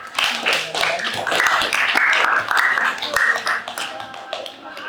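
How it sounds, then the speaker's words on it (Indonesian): A classroom of students claps for the last group to present in a lesson on air pollution, a dense, steady patter of many hands sustained throughout, with voices mixed in. "untuk kelompok terakhir yang presentasi kita beri tepuk tangan"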